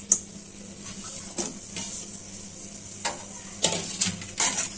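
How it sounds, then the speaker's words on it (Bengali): Chopped onions fry in oil in a pan over a low gas flame, giving a soft steady sizzle broken by sharp, brief scraping and clinking bursts of stirring. "এখন পেঁয়াজ কুচিগুলো দিয়ে দিচ্ছি"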